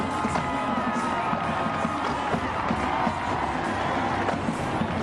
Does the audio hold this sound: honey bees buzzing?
no